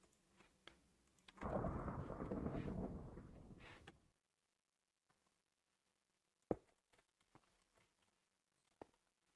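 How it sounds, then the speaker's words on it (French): A Minecraft thunderstorm lets out a loud rolling thunder rumble lasting a few seconds, then fades to quiet with sparse faint rain ticks. "Évidemment, il y a un orage."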